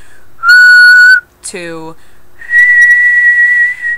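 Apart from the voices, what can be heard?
person whistling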